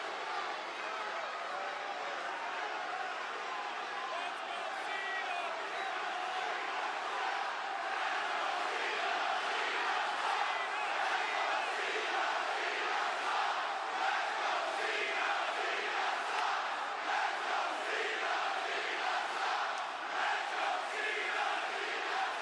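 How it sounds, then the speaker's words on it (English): A large WWE Smackdown arena crowd boos John Cena, a dense sustained roar of many voices swelling slightly and holding steady for over twenty seconds, distant and reverberant with no single speaker standing out. "I think this is the first real big crowd to boo him."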